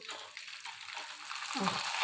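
Rice pappadam frying in hot oil, a brief, faint, steady hiss and bubbling sizzle that swells slightly toward the end.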